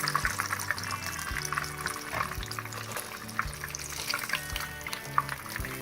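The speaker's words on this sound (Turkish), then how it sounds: "kesmiş olduğumuz puf böreklerimizi kızgın yağın içine atıyoruz. Kızartacağız." Steady sizzling and bubbling of puff pastries frying in hot oil, continuous and close, with a low droning tone underneath and no talking.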